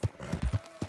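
Horse hooves in the video game Red Dead Redemption 2 clip-clop in a quick run of close, distinct hits, with no talking over them.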